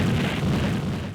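Green explosion in the Blue Stinger survival horror game, a loud sustained rumbling blast that holds steady for about a second before fading.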